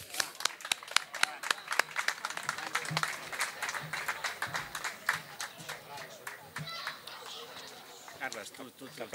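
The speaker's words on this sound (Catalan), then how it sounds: "Un fort aplaudiment." A small outdoor gathering at an association presentation breaks into scattered clapping, uneven and fairly quiet, with individual claps and voices mixed in.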